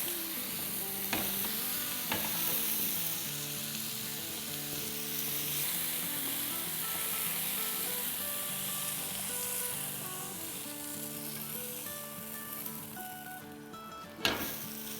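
Chicken pieces fry in a karahi for butter chicken karahi, a steady close sizzle with a spoon stirring and scraping throughout, and a sharp clatter of the pan near the end.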